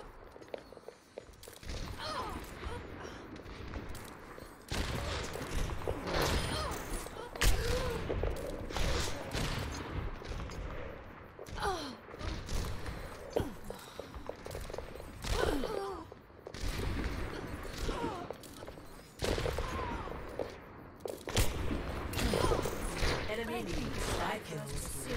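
Video game gunfire in a Necropolis match, bursts of shots and sharp reports scattered through the stretch, along with footsteps and other game sounds. A person talks over much of it.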